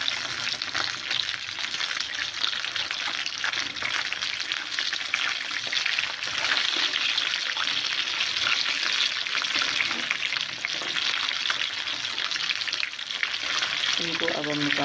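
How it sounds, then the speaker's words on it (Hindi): Pieces of chicken for a zinger burger deep-fry in hot oil, making a loud, continuous bubbling sizzle close by for the whole stretch, with a few faint clinks near the end. "बहुत अच्छे से फ्राई हो चुके हैं।"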